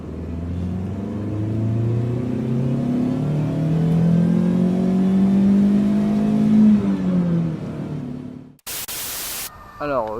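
A car passes along a road during a multi-day hiking trek in the Puys, its engine and tyre rumble swelling loud and close for several seconds before cutting off abruptly.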